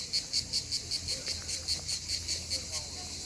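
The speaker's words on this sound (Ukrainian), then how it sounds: "А ще тут голосно дуже кричать е, цикади" Loud rhythmic buzzing of cicadas in Albania pulses in regular bursts, a steady shrill chorus repeating about every fifth of a second, close and continuous.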